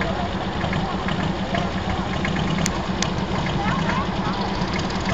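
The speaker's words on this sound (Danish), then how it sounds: "Det er jo en svensker, en 2-cylinder på 33 heste og lige godt 2 liters motor." A Swedish two-cylinder, 33 hp tractor with a roughly 2-litre engine, weighing 1700 kg, runs steadily with a loud, continuous rumbling drone, and someone talks over it throughout.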